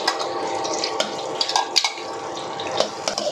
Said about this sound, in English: We fry garlic first.